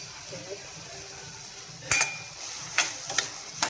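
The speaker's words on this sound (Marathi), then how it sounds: "तर आपण आपली कोळंबी टाकूया. आपण चांगली फ्राय करून घ्यायला." Prawns are fried with onion in a pan for a Goan dish, with a soft sizzle and sharp utensil scrapes and clinks against the pan near the end.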